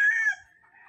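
Rooster near a banana plantation: the tail of a single crow, a bright drawn-out call that fades into a faint, quieter trailing note, heard alone with no talking.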